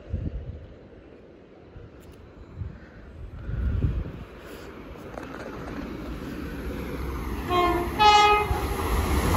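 A diesel passenger train, a Chiltern Railways service from Oxford to London Marylebone at South Ruislip, rumbles closer and passes, its engine and wheels building steadily, wind buffeting the microphone and a brief horn sounding near the end.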